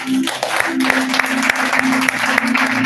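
A church congregation applauds loudly and steadily, a dense wash of clapping close by with a sustained voice or tone running underneath.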